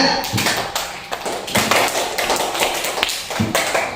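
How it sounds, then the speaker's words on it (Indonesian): Classroom applause for a student group: a burst of clapping hands fills the room, steady and fairly close, with some sharp taps and thumps standing out, and no talking over it. "Beri tepuk tangan untuk kelompok 3."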